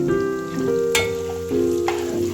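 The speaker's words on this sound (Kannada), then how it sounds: "ಇವಾಗ ಪುಟಾಣಿ, ಶೇಂಗಾ ಎಲ್ಲ ಚೆನ್ನಾಗಿ ಫ್ರೈ ಆಗೋವರೆಗೂ ಕೈ ಆಡಿಸ್ತಾ ಇರೋಣ." Roasted gram and peanuts frying in a pan with turmeric and salt, giving a steady close sizzle with occasional sharp clinks of a spatula as they are stirred.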